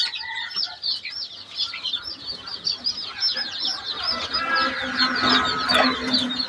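Desi hens and chicks cluck and chirp in a busy flock, calls overlapping steadily and growing denser toward the end, with faint rustling beneath.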